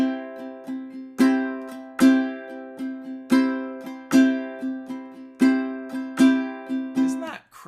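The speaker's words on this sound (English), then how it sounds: "I'm going to accent that first down, and I'm going to accent the first up I play" Ukulele strummed in a steady down-up pattern, the first downstroke and first upstroke accented, played with the nail on the up strum; bright plucked chords ring close and clear, about eight sharp accented hits over the rhythm, no talking.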